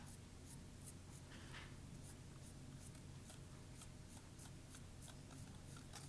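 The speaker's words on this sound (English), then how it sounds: "we're going to stick with the HB hard pencil, and we're going to do vertical shading on these 3 boxes" Soft, steady scratching of an HB hard pencil making vertical shading strokes on hand-toned paper, a close rhythmic series of short repeated strokes with no voice.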